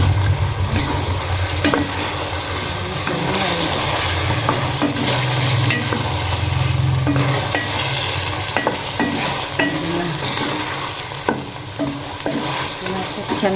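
Chicken adobo with eggs cooking in a pan gives off a loud, steady sizzle and bubbling close up, with occasional scrapes and knocks of stirring throughout and no talking.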